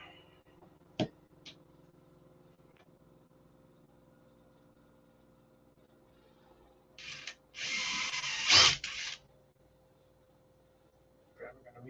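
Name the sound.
drill drilling holes in doors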